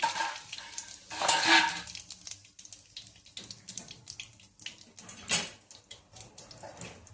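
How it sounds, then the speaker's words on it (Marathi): Cumin seeds and seven or eight curry leaves crackle and sizzle in hot oil for a pea misal, a busy, fairly close spitting texture with sharper bursts early and again near the end. "तेल तापलंय त्याच्यामुळे काही पटापटा होऊन जाते"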